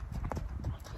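A Tennessee Walking Horse, a mare, walks across the ground, with a few soft, close hoof clip-clops in quick succession during a brief moment.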